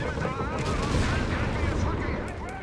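MG42 machine gun fire in Company of Heroes 3, part of a World War II battle against advancing Shermans, rattles densely and loudly without a break inside a thick wash of battle noise.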